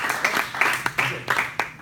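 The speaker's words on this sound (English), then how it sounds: "Let's give a round of applause to Ed and take it away" Audience applause for a presenter at a talk: a short burst of clapping from a small crowd, with several sharp individual claps standing out over a steady patter.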